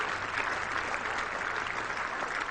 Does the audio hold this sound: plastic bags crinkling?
no